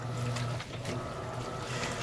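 An Electrolux LPR top-loading washing machine agitates a load of T-shirts and underwear, giving faint, continuous water sloshing and churning over a low motor hum, with no voices.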